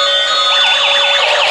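An electronic siren on a toy ambulance wails in a rising and falling pattern, loud and close, looping steadily with a constant high tone underneath.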